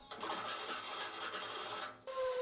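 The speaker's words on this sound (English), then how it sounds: "using a collection of files and rasps here to take all the sort of excess material off the welds" A file rasps across excess weld material on the steel A-pillar of a van, making a loud, close, continuous scraping stroke of about two seconds before a brief change in tone at the end.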